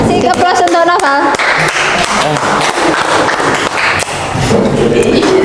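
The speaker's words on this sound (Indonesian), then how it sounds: "Kasih aplaus untuk Noval." Classroom applause for a presenter named Noval during a teaching practice session, dense continuous clapping from a group held loud and steady throughout, with some voices mixed in beneath it.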